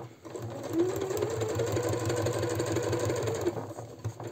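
Sewing machine running a continuous stitching seam on a men's shirt, a steady close mechanical whir at low level for several seconds.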